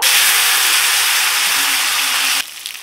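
Taro pieces added to hot oil left in a wok after frying fish, a loud dense hiss that cuts off abruptly near the end, leaving faint sizzling.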